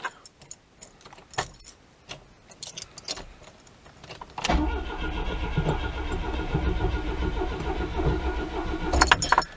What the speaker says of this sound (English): it's not designed for that long crank of trying to get fuel through